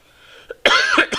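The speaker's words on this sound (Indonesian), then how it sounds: "Mohon maaf ya, saya juga batuk." After a brief throat noise, someone coughs harshly up close, two or three quick bursts in a row, at the Ijen crater with its acidic crater lake.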